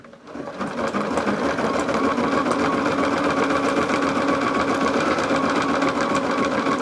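Embroidery machine running steadily while stitching satin stitches on a multi-layer machine-embroidered gingerbread piece with tearaway stabilizer, a continuous close whirring hum with fast rhythmic needle chatter that holds level throughout, no talk.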